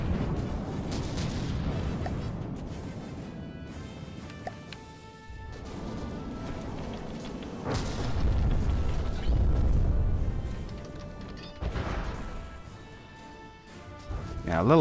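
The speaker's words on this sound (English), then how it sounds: "heat torpedoes still landing hits" Heat torpedoes striking targets in the naval combat game From the Depths, producing repeated heavy crashing impacts and explosive bursts over a rumbling battle background, with a voice talking over parts of it.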